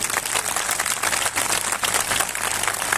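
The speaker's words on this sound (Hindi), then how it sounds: "जोर से ताली बजा के धन्यवाद है" Applause from a church convention audience gathered for a pastor's sermon, a steady dense wash of clapping holding evenly for several seconds with no talk over it.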